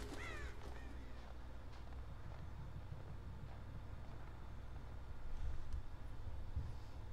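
Crow caws in the Until Dawn video game on a misty path to a cable car station, a few harsh calls early on over a steady low windy rumble with a brief louder swell later.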